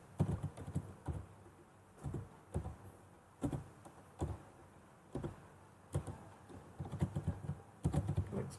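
Keys clatter on a computer keyboard as a folder name is typed, in short bursts of clicks separated by pauses, close and fairly quiet with no talking.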